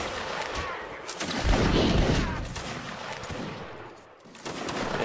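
Musket volleys ring out in a Mount & Blade: Napoleonic Wars battle, with a swelling roar of massed gunfire, scattered sharp cracks and a dense crackle in the middle before it thins out, with no talk.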